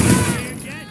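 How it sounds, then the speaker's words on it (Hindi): A grenade goes off in Watch Dogs 2 gameplay: a single loud, close blast that hits at once and fades over less than a second. "ग्रेनेड लगाई।"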